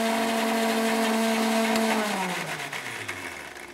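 Blender whirring steadily as it mixes custard apple pulp into a smoothie, a loud constant motor whine that then winds down and slows to a stop near the end, up close and without talking.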